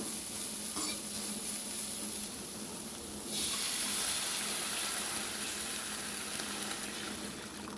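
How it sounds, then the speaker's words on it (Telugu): Half a litre of water poured into a pan of vegetable soup with capsicum and spring onion, a steady wash of liquid and sizzle that swells louder midway and carries on without talk. "ఇప్పుడు 1/2 లీటర్ వాటర్ పోసుకోవాలండి."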